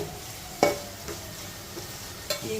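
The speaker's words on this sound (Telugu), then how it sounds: "తాలింపు పెట్టేస్తున్నాను" Tempering spices crackle and sizzle in hot oil for tomato chutney, with a few sharp stirring scrapes of a spoon against the pan.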